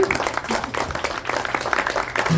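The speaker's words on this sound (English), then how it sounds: "Let's give Dawn a big round of applause" Audience applause following a talk, a steady wash of clapping from a small crowd at moderate level, lasting the whole moment without a break.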